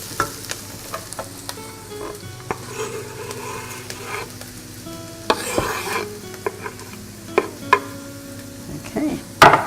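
Garlic tipped into browned, softened onion in a hot pan and stirred for a chicken ragu, with steady sizzling under repeated utensil scrapes and clinks, ending in a louder burst of frying near the close.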